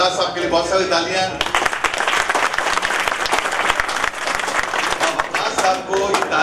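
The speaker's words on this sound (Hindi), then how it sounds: "वक़ास साहब के लिए बहुत सारी तालियां।" An audience claps loudly for Waqas Sahib at a public gathering, dense close applause starting after someone speaks briefly, then continuing strong with occasional voices mixed in.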